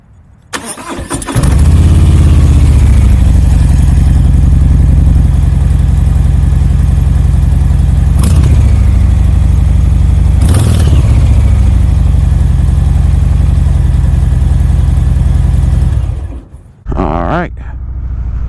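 A 2020 Harley-Davidson Softail Deluxe starts up close and loud, then settles into a deep, lumpy idle with a couple of throttle blips before shutting off.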